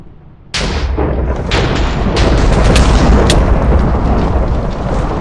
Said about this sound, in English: The Wrath of Notch. Right click on something and sets it on fire.